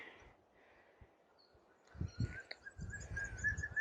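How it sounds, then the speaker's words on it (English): A bird calls outdoors on the Tasman Peninsula in Tasmania, a thin whistled note that starts faintly and grows steadier and louder toward the end, over light rustling and footsteps nearby. "Can you hear that bird?"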